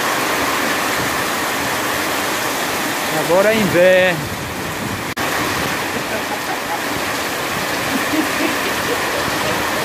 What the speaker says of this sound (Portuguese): o vento tá forte trazendo a chuva pra cá